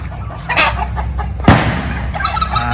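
Poultry calling nearby: a few throaty clucks and gobbling bursts from a Black Australorp chicken over a steady low hum, with one sharper loud squawk midway.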